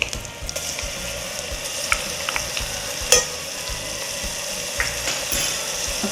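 Garlic paste frying in a pan for a Muslim dum biryani, sizzling steadily with scraping stir sounds from a utensil and a few sharper clinks, close and continuous with no talking.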